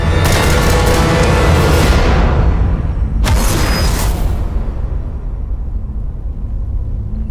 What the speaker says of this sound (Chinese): 接着就是连着4枪